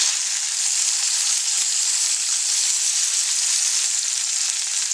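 Halibut sizzles steadily in hot oil in a pan after being flipped, a close, continuous hiss and crackle with no talking.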